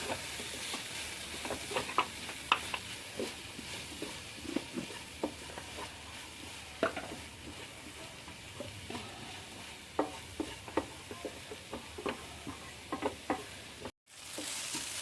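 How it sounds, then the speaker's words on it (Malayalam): Turmeric powder and garam masala fry in a pan for chicken samosa filling, a steady sizzling hiss broken by frequent sharp scrapes and clicks of a spoon stirring, close and alone with no voices. "കുറച്ച് മഞ്ഞൾപ്പൊടി ഇടാം നമുക്കിതൊരു പച്ചമണം മാറുന്ന വരെ ഇളക്കി കൊടുക്കാം"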